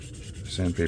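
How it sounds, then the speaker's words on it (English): Sanding by hand with 180 grit sandpaper at a small craft workbench, a soft rasping rub that grows louder and rougher in two strokes toward the end, with no talk. "And then the sandpaper."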